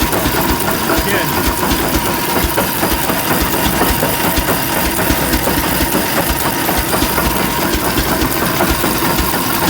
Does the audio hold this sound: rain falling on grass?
no